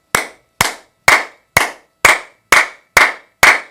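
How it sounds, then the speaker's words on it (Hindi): Loud, forceful hand claps for a self-healing exercise, eight crisp claps in a steady, even rhythm about half a second apart, close up and alone with silence between each. "अब आप जब ताली बजाओ इसकी, तो इतनी जोर से बजाओ कि पूरे के पूरे चैनल्स आपके खुल जाए।"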